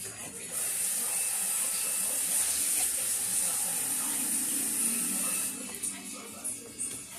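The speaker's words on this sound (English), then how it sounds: "If you want it a little looser, you just add more water." Water pours steadily from a tap into gravy with a bright, hissing rush for several seconds, then tapers off into a few soft splashes and clinks.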